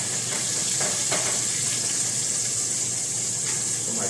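Rockfish coated in breadcrumbs fries in butter in a pan, giving a steady, loud, continuous sizzle with a faint crackle throughout, and no voices.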